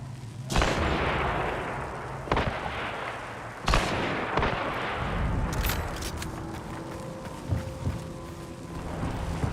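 Heavy single shots and booming reports echo in Hunt: Showdown, several spaced sharp cracks with long rolling tails, one likely from a scoped marksman rifle, over a low ambient rumble.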